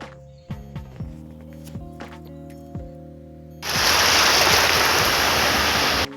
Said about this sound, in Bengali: চলে এসেছি বকখালি সমুদ্র সৈকতে